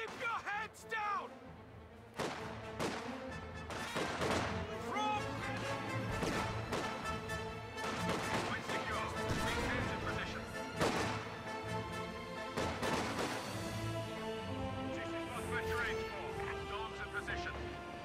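Dense gunfire and artillery in Company of Heroes 2 pound away in repeated sharp blasts and crashes, layered under shouted voices and a busy battle soundscape throughout.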